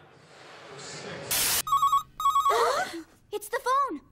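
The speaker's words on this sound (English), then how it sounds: "It's the phone." In an anime scene, a telephone rings in two short electronic bursts, and animated voices speak around the rings.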